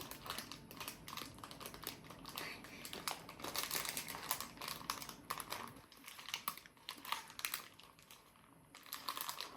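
Crinkly plastic snack packaging rustles and crackles in bursts, handled up close as someone struggles to open it, with some faint talk.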